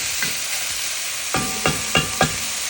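Crab sears in a hot pan with a constant bright sizzle, then four quick stirring scrapes come in an even rhythm near the end.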